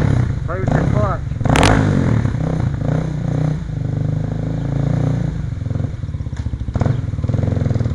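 A dual-sport motorcycle engine revs and idles roughly at close range for several seconds, with people talking over it.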